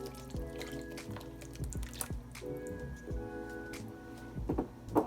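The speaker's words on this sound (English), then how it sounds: "Take your baking dish and pour this over the top." Thick chicken and dumpling casserole batter poured into a baking dish, heard as soft wet glugs, drips and squishy plops in close, quiet detail with no talking.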